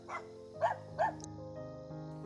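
A dog gives a few short, moderately close barks and yips on a lakeside walking trail, set against a quiet background.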